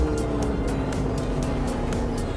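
A sports car on Michelin Pilot Sport Cup 2 tyres runs at speed on a race track, with a loud, steady roar of engine and road noise throughout.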